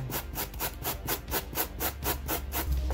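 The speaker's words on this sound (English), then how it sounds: "take your wire brush give it a little dent here" A wire brush scraped back and forth over a foam faux stone wall, making a steady rhythmic rasping of about a dozen even strokes, close and fairly loud, with no talking.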